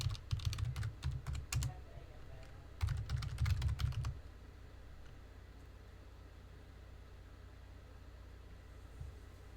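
Quick bursts of keystrokes on a computer keyboard, two clusters of rapid close taps separated by a pause, then quiet with a faint background hum.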